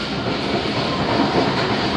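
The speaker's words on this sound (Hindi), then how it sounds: "101 किलोमीटर की स्पीड से ट्रेन पास कर रही है" The Karachi Express passrushes by at about 101 km/h with a loud, continuous roar of wheels on rails and a broad rushing rumble, close and steady throughout.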